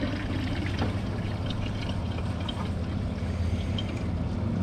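A Kohler Pressure Lite pressure-assisted toilet is flushed a second time after its tank refills, giving a loud, steady rush of water that runs close and unbroken through the whole stretch, with no talking.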